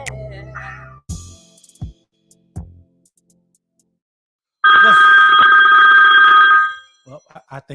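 A phone rings loudly for about two seconds, a bright steady electronic tone standing alone in a quiet gap, after scattered bursts of people talking.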